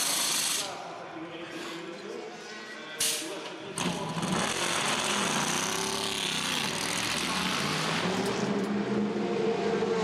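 Le Mans 24 Hours pit stop in 2014, with a tyre change and refuelling while the driver stays in the car. Loud engine and tool noise fills the pits continuously, with a burst of activity partway through and voices underneath.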